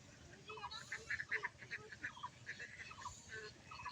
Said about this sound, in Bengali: দেখতেছে হাঁসেরা খেলা করতেছে